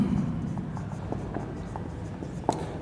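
Pen writing the letters RBC by hand, a short run of soft scratchy strokes close up with a brief tap near the end, no talk.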